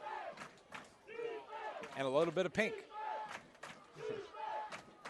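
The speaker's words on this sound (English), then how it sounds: "you can hear the crowd starting to chant defense as the Valhalla home side comes alive" Home crowd at a Valhalla vs. Steele Canyon football game chants "defense" in rhythmic, swelling group shouts, heard from a distance with a voice talking over it.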